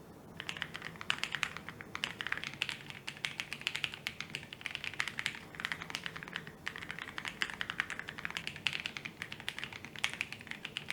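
Rapid, continuous typing on a low-profile keyboard fitted with PE foam, with close, poppy, bright key taps in an even rhythm and no voices.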